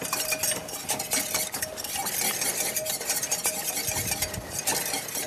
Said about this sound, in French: on fait cuire notre roux pour qu'il épaississe légèrement